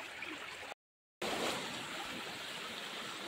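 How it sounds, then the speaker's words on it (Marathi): Water flowing steadily along a village stream after heavy rain, a continuous broadband rush that fills the clip apart from a brief silent gap near the start, with no talk over it. "पाणी दिसतंय ना तुम्हाला, तिकडनं येतंय ते असं वाहत आहे"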